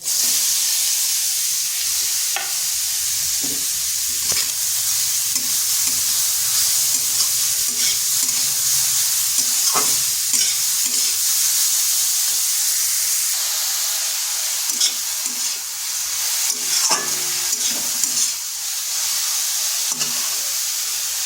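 Papaya pieces dropped into hot oil already seasoned with nigella seeds and a dried chili, sizzling loudly and steadily up close while a spatula stirs them with repeated scraping strokes.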